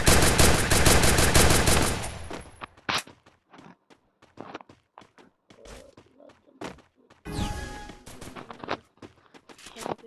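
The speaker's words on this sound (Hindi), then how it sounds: "चलो हेडशॉट मारने के लिए MP40 काफी है।" MP40 fire in a lone wolf shooter game: a sustained automatic burst up front, then scattered single shots and thuds, and another short rapid burst, loud and punchy with quiet gaps between.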